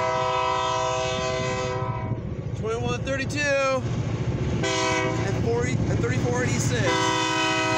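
A mixed freight and steel train's deep diesel locomotive rumble roars steadily nearby while a horn sounds and a person talks excitedly over it.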